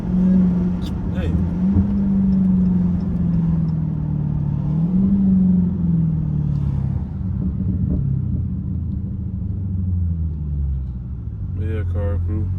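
Supercharged 800hp Dodge Hellcat engine rumbling loud and close from inside the car on a drag strip, with deep revving sweeps rising and falling through hard acceleration pulls while someone talks over it.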